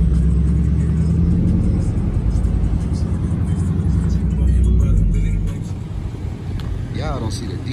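A Chevrolet Camaro with a Pikachu wrap idles with a steady low rumble throughout, dropping slightly in level near the end, with no talk over it.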